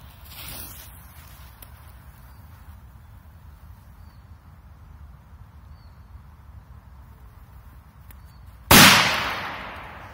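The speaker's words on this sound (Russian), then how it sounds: "Следующая петарда будет вот такой мячик, по-моему, от феерии." A ball-shaped Feeria firecracker goes off with a single sharp, loud bang near the end, after a long stretch of quiet outdoor hiss and faint rustling.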